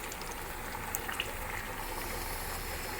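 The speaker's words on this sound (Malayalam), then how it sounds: "എണ്ണ ചെറു ചൂടായി വരുന്നുണ്ട്." Cooking oil slowly heating in a pan before frying Kaari fish (kadu meen), a steady, even sizzling hiss that carries on alone without pause or voices.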